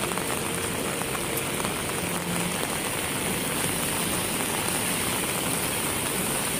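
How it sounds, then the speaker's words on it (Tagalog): Heavy rain pours down steadily, a dense, loud, continuous hiss of drops hitting surfaces with no break and no voices. "ito ngayon ang kalagayan dito, umuulan."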